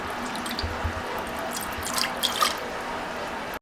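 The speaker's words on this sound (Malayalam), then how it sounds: "ഈ ഒരു കപ്പിൽ ഞാൻ വാട്ടർ എടുത്തിട്ടുണ്ട്. നമുക്കിതിൽ ഒഴിച്ചു കൊടുക്കാം." Water poured from a cup into a non-stick bowl in a home kitchen, a short run of dripping and splashing with a few brighter trickles, close and fairly quiet.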